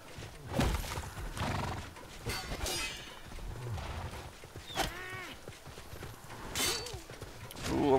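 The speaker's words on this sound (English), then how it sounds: "I'm getting run over by horses." Horses neigh and hooves clatter in the medieval combat game War of the Roses, with whinnies rising over a rough mix of galloping hoofbeats and battle clatter at moderate volume.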